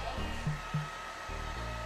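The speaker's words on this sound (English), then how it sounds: "I used my hand dryer to speed up the drying process" A handheld hair dryer whirs close by with a constant hum and airy hiss, its pitch wavering slightly throughout, drying paint on a craft project.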